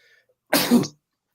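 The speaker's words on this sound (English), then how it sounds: "We even sneeze sometimes on air." A single short, explosive sneeze bursts out of near silence, close and fairly loud, lasting under half a second.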